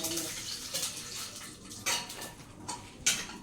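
Spices being roasted in a little oil in a kitchen pan give soft, faint scraping and stirring clinks, with a few sharper metallic taps of a utensil against the pan.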